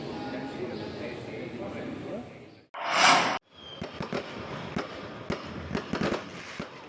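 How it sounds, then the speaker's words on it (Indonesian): Crowd noise at the Merauke city anniversary celebration in South Papua gives way to a loud burst, followed by scattered sharp bangs and crackles of fireworks, with people talking throughout. "Kembang api mewarnai puncak Hari Ulang Tahun"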